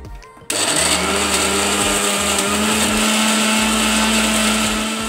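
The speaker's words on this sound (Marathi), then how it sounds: "तर इथे आपण टोमॅटो घालूया आणि मिक्सरला फिरवून घेऊया" A kitchen mixer grinder whirs loudly and steadily as it purees tomatoes, starting abruptly after a brief quiet moment and running continuously with a high motor whine and churning hum.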